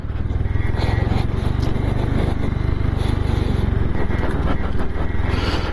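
A motorcycle ridden along a rebuilt mountain road in North Sikkim toward Gurudongmar Lake, its engine droning steadily and loudly close by, with wind rush and occasional scrapes from the rough surface.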